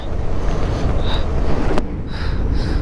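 Strong wind roars steadily past a Honda Activa scooter riding up the high Himalayan pass at Umling La in Ladakh, a loud, constant buffeting rush with no talking.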